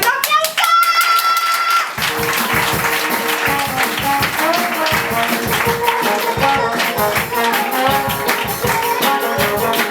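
Live audience at a Spanish stand-up comedy show clapping loudly and steadily for about eight seconds, a dense close wash of applause that starts after a brief musical sting.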